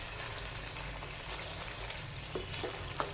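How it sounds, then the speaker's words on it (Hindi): Steady frying sizzle of mustard greens sautéing in a pan with soft crackles and a few brief clicks of stirring, fairly close, no voices. "आपने 2-3 मिनट इसको भूनना है, अच्छी तरह आपने भूनना है"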